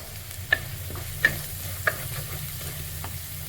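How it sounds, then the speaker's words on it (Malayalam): Garlic and ginger frying gently over a low flame, with a steady soft sizzle and three distinct spoon scrapes and taps from stirring in the pan, close and alone. "ഈ സമയത്ത് ഫ്ലെയിം കുറച്ച് വെച്ചിട്ടാണ് നമ്മളിത് ഈ വെളുത്തുള്ളി ഇഞ്ചിയെല്ലാം മൂപ്പിക്കേണ്ടത്"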